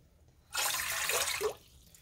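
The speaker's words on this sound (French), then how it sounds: "une tasse d'eau froide dans notre bol et une deuxième tasse d'eau chaude." A cup of water pours into a bowl for bread dough, a close, bright, splashing stream that lasts about a second before stopping abruptly, with no speech.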